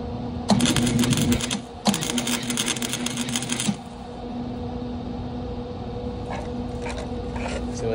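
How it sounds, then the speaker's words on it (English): Welding a lock onto a thin metal door: two sustained, crackling buzz bursts of the arc, each lasting a second or two, then quieter background hum with faint scattered ticks. "hopefully I can get a decent weld on this"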